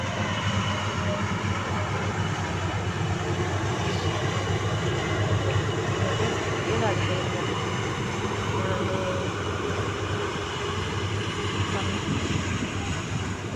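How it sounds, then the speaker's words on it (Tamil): A newly arrived maize grinding machine runs at speed, giving a steady loud mechanical roar and rumble with a constant droning hum throughout. "இப்போ புதுசாக மக்காச்சோளம்னு அரைக்கிறதுக்கு வந்த மிஷின் அது."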